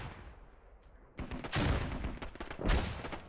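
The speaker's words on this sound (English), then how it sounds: "I'm hearing a lot of M4 fire, a lot less AK fire than I would expect right now." Distant rifle fire from M4s echoes across a battlefield in the video game Squad, with scattered bursts building into two loud volleys over a broadband rumble, no talk.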